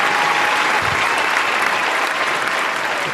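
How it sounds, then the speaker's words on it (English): Audience applause during a live talk show event in Aberfeldy, a steady round of clapping from a modest crowd lasting a few seconds, fairly close and even. "We've had our round of applause."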